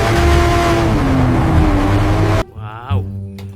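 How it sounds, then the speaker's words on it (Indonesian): A toy racing motorbike revs loudly and continuously for over two seconds, then cuts off abruptly, followed by a brief voice. "Keluarlah motor balap"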